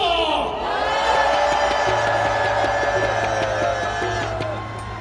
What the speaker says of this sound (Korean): 이 기쁨을 마음껏 함성으로 질러 봅시다!